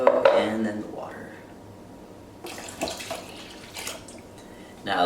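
Water is poured into an Instant Pot pressure cooker on top of baked beans with tomato sauce, giving a brief splashing rush in the middle and again near the end, with speech at the start.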